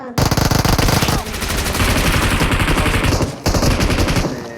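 Rapid, loud bursts of machine gun fire in the video game BGMI, rattling continuously, with a brief pause before the shooting resumes.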